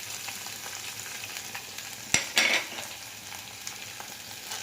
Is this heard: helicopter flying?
no